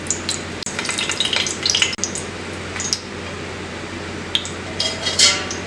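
Ghee in a pan before onions go in for a Malabar chicken biryani, giving a steady close frying sizzle with scattered clinks and scrapes of utensils against the pan.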